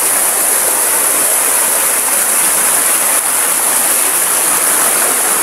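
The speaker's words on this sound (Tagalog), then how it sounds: "Siguro mas malakas yung Mother Falls na ito." Tarimis Falls in Montalban, Rizal, pouring with a strong flow, a loud, steady, close roar of falling water that stays unbroken throughout.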